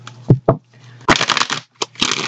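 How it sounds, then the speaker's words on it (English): A deck of tarot cards is shuffled close up in several quick riffling bursts, with short pauses between the crisp, papery flurries, and no talk. "let me get your card shuffled here."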